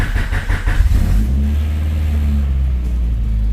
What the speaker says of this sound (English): Idling better than he's ever had it idle before.